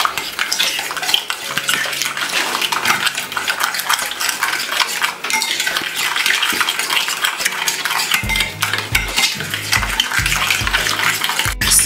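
Utensils clink and scrape against a bowl as coleslaw ingredients are stirred together, a steady busy clatter running throughout with a few low bumps near the end and no talking.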